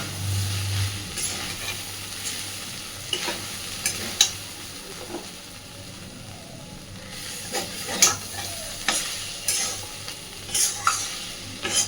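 Fish roe chorchori with leafy greens is stirred and fried in a pan: a soft steady sizzle runs throughout, broken by repeated scraping strokes of the spatula and brief clinks.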